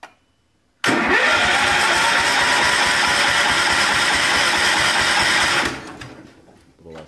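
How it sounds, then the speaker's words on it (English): A small engine cranked with the choke on, starting abruptly after a quiet moment and churning loudly and steadily for about five seconds before cutting off and fading. "So we got choke on. That's open. Let's try cranking up here again."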